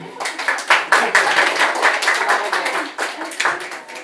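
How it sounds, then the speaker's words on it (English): Guests at a hair and beauty salon's first birthday celebration clap for Gary, a lively burst of close hand claps with distinct individual slaps rising and falling over four seconds. "Can I have a round of applause for Gary?"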